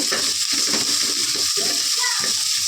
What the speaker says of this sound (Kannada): ಮೆಣಸಿನ್ಕಾಯಿ ಕೂಡ ಇದ್ರ ಜೊತೆನೇ ಚೆನ್ನಾಗಿ ಫ್ರೈ ಮಾಡ್ಕೋಬೇಕು